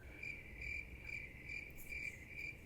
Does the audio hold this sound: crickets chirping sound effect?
yes